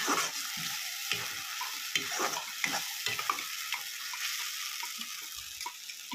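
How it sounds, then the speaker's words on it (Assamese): Masala paste for paneer masala fries and gets stirred in a pan, a soft steady sizzle broken by repeated scraping strokes of the spoon, close and fairly quiet with no talking. "আকৌ ধুনীয়াকৈ ভাজি ল'ম"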